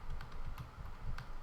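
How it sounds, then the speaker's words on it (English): Keys on a computer keyboard pressed during spreadsheet-style editing, mostly Shift and the arrow keys: a quick, irregular run of soft clicks and taps close to the mic, with no talking. "I'm using Shift and the arrow keys to actually"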